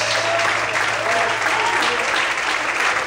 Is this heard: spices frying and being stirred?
no